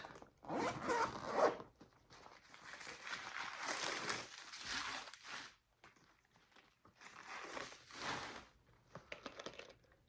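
A navy handbag's double zip-around zipper is pulled in long, smooth raspy runs, several zipping strokes separated by brief pauses, close and clear with faint handling rustle.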